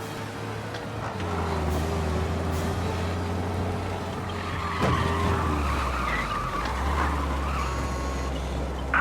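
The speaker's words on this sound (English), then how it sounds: "We lose them by driving real fast and getting clear of them." A car engine in Mafia: Definitive Edition roars at speed with tires screeching and skidding, steady motor noise throughout and a few sharp squeals, no talking.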